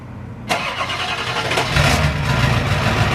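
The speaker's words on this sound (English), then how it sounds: "let's fire my truck back up" Ford 7.3 diesel truck engine cranking and catching via a remote starter, a sudden loud start that settles into a deep, steady idle close by.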